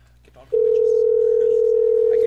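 A telephone dial tone begins abruptly after a brief moment of quiet and holds as a loud, steady, unbroken hum to the end.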